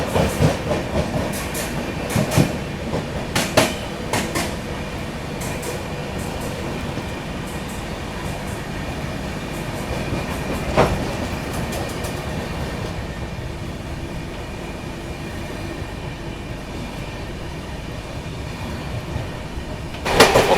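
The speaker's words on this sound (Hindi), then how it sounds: "यहाँ थोड़ा सा स्लो डाउन हो गई अपनी ट्रेन, क्योंकि आगे आगे चल रही है अभी गोमती एक्सप्रेस।" Vikramshila Express rolling and slowing near Khurja Junction: a steady, rumbling rail roar with faint wheel clatter, a few sharper clanks and brief squeaks scattered through, moderately loud and continuous with no voices.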